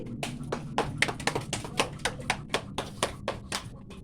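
About fifteen hand claps in a quick, steady rhythm during a blindfolded village game, crisp and moderately close over a faint background murmur.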